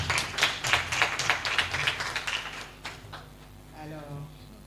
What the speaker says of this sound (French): Et je veux qu'on applaudisse aussi